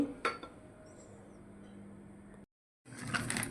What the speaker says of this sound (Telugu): స్టవ్ వెలిగించి మనం ఒక గిన్నె అయితే పెట్టేసుకుందామండి